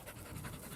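A dog pants hard after running about in the countryside, a rapid, steady string of close, breathy huffs with no pauses.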